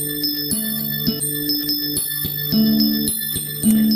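Sonified tones representing hydrogen, carbon and oxygen molecules ring out as a layered chorus of sustained bell-like pitches, changing in steps roughly every half second with bright overtones, steady and alone without voices.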